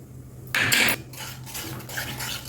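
Roasted vermicelli is stirred in boiling milk in a pot, a loud metallic scrape of the spoon against the pot followed by softer, repeated stirring and scraping over a low hum.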